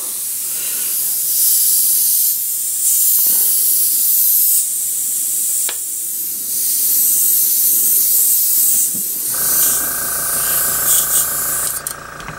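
Airbrush spraying Alclad metallic paint onto a model frame: a steady, close, airy hiss that runs almost continuously with brief pauses, then cuts to a thinner, quieter tone near the end.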